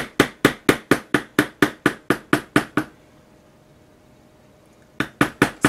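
Light, steady taps of a metal bevel stamp on leather, a dozen crisp even knocks, then a pause of about two seconds, then a few more taps. Close and fairly loud.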